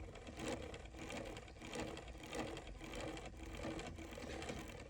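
A Falak chain stitch embroidery machine, greased with heavy silicone grease, runs with a faint, uneven mechanical clatter whose repeated pulses come just under a second apart, heard alone without talk.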